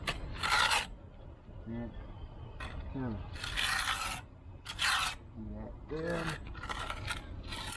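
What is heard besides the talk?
scraping excess mortar off back of cinder block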